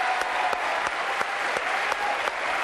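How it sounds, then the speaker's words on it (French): Studio audience at a French television variety show applauding, a dense, even stream of clapping that holds steady throughout, with a few sharper individual claps standing out. "Applaudissements pour Marie Musard."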